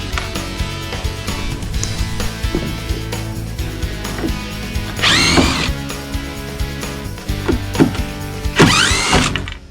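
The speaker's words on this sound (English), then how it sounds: "Whenever possible, we remove the screws to preserve the joists." A power drill backs screws out of wooden deck joists in short whirring bursts, several separate runs, with tool clatter in between.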